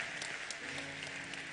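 A church congregation claps in sustained, dense applause, many hands at once forming an even, continuous patter at moderate distance throughout.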